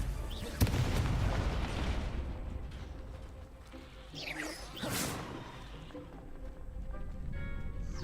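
Confringo fire spell in Hogwarts Legacy: a loud blast and rumble up front, then a whooshing spell burst midway, among crackling game effects, with a voice speaking briefly.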